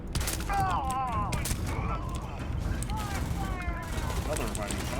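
Rapid gunfire bursts in the space game Starfield, loud and close with sharp repeated cracks, mixed with laser-like sweeping electronic tones.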